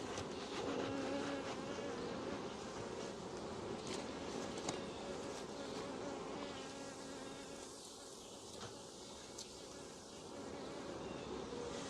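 Honeybees swarm and drone steadily around an opened old hive where a nuc is being dropped in, a dense, continuous buzz close by with individual bees passing near, no voices.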